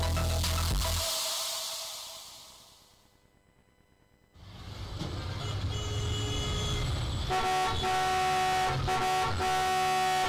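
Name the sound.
car horn honking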